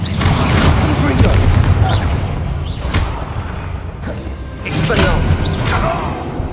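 Fiery Confringo spell blasts in the Hogwarts Legacy video game, a loud run of booming explosions and crashes over several seconds, with combat shouts mixed in.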